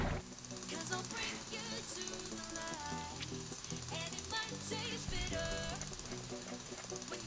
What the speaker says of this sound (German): Wie man hört, bohrt der Kleine noch vor sich hin.